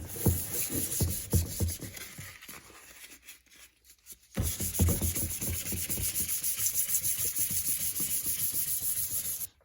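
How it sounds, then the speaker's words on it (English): Wet sanding an oxidized, faded car headlight by hand with 1000 grit sandpaper, rhythmic back-and-forth rubbing strokes close up, pausing briefly midway before resuming steadily. "We're just going to soak down the headlight and then start sanding with our 1000 grit."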